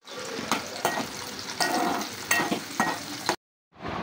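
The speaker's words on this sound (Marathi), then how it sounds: "सो तेल गरम झालेलं आहे, भाज्या मी याच्यात टाकणार आहे आता आणि व्यवस्थित शिजवून घेणार आहे" Vegetables sizzle in hot oil in a pan, with repeated stirring scrapes breaking through a close, crackling fry before a brief silent gap and a return of the sizzle.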